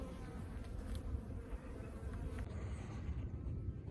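Honeybees buzz around a Layens hive, a soft, steady hum of several insects nearby with no one talking.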